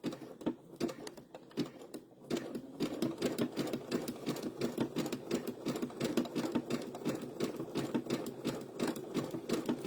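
A domestic sewing machine running fast for free-motion embroidery on quilt blocks: a steady, rapid mechanical needle chatter that speeds up after a couple of seconds, fairly quiet and close, with no voices.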